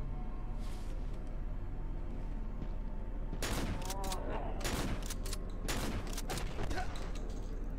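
Bursts of M16 rifle fire in the horror game Cry of Fear, sharp rapid volleys in two clusters around the middle and end, close and loud over a constant low game drone.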